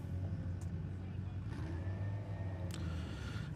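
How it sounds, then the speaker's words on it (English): Street cars, a Ford Focus and a Corsa, drag race at Santa Pod Raceway, their engines a low distant roar and rumble with a rising whine, heard under faint commentary. "Here comes the power of the Corsa as he drives around him mid-track."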